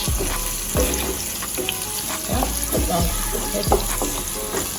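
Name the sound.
saltfish frying in a pan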